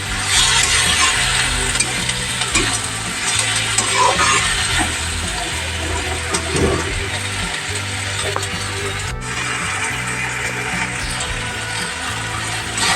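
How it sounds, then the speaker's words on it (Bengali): Potato, pointed gourd and kulekhara greens are sautéed in a pan, with a continuous dense scraping and rattling of a spatula stirring the vegetables, loud and close, alongside a low sizzle throughout. "আলু পটল কুলেখাড়ার শাক আমার কষানো হয়ে গেছে।"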